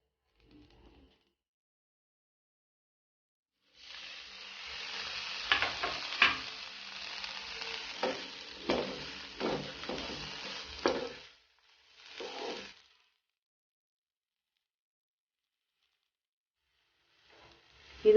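Coconut and curry leaves being stirred and roasted in a pan for curry leaf chutney, a few seconds of quiet sizzling with scraping strokes of a spoon, then silence with a brief stir near the end.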